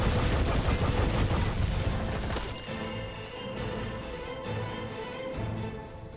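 Gunfire and crashing impacts from the video game Deep Black come as a dense, loud barrage at first, then fade into sparser, quieter shots.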